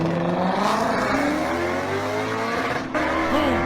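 A voice imitates a revving V8 engine: loud, continuous, buzzing drones that climb and fall in pitch like a car accelerating, close up and alone for nearly four seconds.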